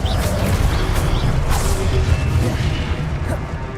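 Expelliarmus spell cast in the Hogwarts Legacy video game, a sustained loud booming, crashing blast with a whooshing rush, steady for a few seconds.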